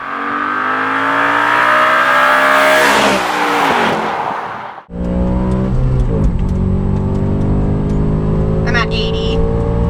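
An Audi RS4 with stock clutch accelerates hard, its engine rising steadily in pitch through a gear, a brief dip at the shift, then pulling again, loud and close from inside the car.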